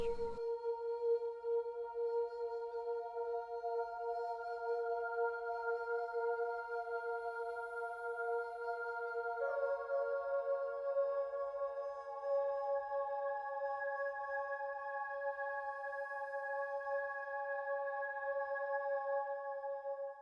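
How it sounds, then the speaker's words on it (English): Omnisphere's "Cherry Blossoms" synth pad holds a smooth, sustained chord, then shifts to a second chord about halfway through. The two-note progression sounds alone, with soft evolving overtones and no talking. "So these pads are also in Omnisphere, and it's just called Cherry Blossoms"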